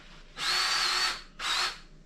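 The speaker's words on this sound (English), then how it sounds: "I got a 3/8 drill bit. This should work for both holes." A power drill fitted with a 3/8 bit bores holes for a poultry waterer, whining in two bursts, a longer run and then a shorter one, close and fairly loud with no talk.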